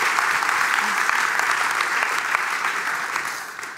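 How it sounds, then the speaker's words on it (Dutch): Dense, steady audience applause at the end of an evening event, a loud continuous wash of many hands clapping that tapers slightly near the end, with faint voices beneath. "Eerst een groot applaus voor Victor Aboen."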